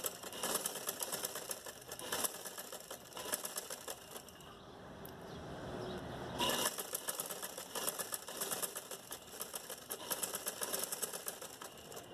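A sewing machine stitches a trouser strip with a fast, steady mechanical clatter. It pauses briefly partway through, then runs on at the same close, even pace with no talking.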